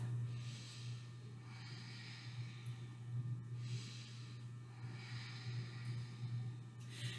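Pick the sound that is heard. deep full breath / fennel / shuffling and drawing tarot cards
deep full breath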